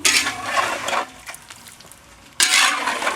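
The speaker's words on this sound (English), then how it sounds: "we're a half hour into this thing, and we're still cooking on a low fire." Pork cracklins frying in oil over a low fire, a steady bright sizzle with stirring noises, dipping briefly quieter in the middle before the loud crackle returns.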